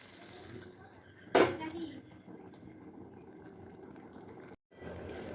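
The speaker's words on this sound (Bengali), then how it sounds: "আমি এখানে গরম জল ব্যবহার করব গরম জল দিয়ে দেবো" Hot water pours into a pan of pointed gourd and shrimp curry in a brief loud splash and sizzle, fading into a soft bubbling simmer under the quiet kitchen background.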